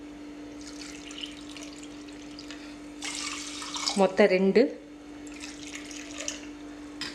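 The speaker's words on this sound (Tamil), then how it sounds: "3 கப் தண்ணி ஊற்றியிருக்கேன்." Water is poured into a cooking pot holding thinai millet and coconut milk, making a short close gurgling splash of a second or so over a steady background hum, with someone speaking nearby.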